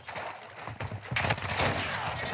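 Rapid hand cannon gunshots in a first-person shooter video game, a dense burst of loud, sharp blasts that builds and grows heavier toward the end, with no talk over it.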